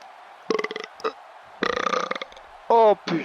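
Several loud, croaking burps close up, coming in short bursts with gaps, the longest a sustained voiced belch near the end, heard alone during commentary on an amateur wrestling tournament match.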